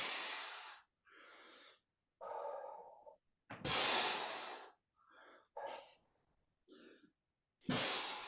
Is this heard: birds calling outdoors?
no